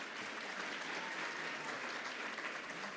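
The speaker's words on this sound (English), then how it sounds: "Big round of applause for all our semifinalists before they come on up here." An audience at a We Are Wearables Toronto pitch competition gives the semifinalists a round of applause: a thick, continuous wash of clapping, close and loud throughout.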